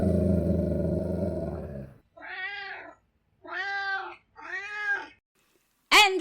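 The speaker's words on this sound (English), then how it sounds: "with the meows of the Maca-Meow" Three distinct, close meows from a cat follow a loud tonal sound that cuts off, then a sharp burst at the end.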